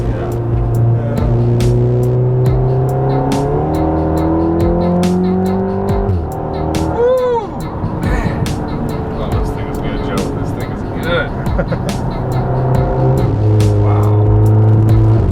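A modified 2016 Volkswagen MK7 Golf R with a Stage 2 tune accelerating hard, engine note rising in steady pulls from inside the cabin, loud and continuous, with people talking over it.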